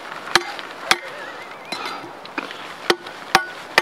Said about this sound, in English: I can definitely do some chopping if I have to and get through some branches